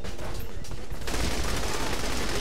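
Rapid, dense gunfire from the video game Saints Row: The Third, played in co-op, rattles almost continuously for a couple of seconds at moderate loudness.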